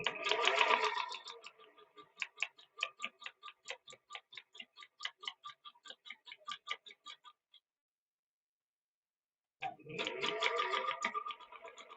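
A sewing machine stitches at close range: a fast run at first, then a slower run of evenly spaced ticking stitches, a pause in silence, and another fast burst at the end.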